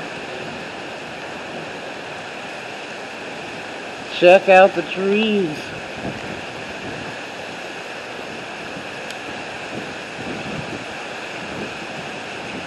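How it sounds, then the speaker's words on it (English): Heavy pouring rain during a Las Vegas storm makes a steady, even hiss throughout, with someone speaking briefly partway through. "And this is a pouring,"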